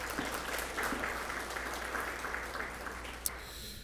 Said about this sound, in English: Another round of applause for Kerry, please.